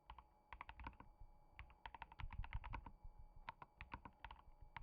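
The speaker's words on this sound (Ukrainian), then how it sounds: "моя гучна механіка" Rapid, uneven bursts of clacking keystrokes on a loud mechanical keyboard, close and crisp, coming in quick clusters with brief pauses, no voices.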